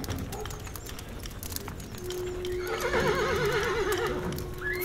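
A horse gives a wavering, drawn-out whinny at moderate distance, heard over a busy outdoor soundscape with faint hoof clops and birds.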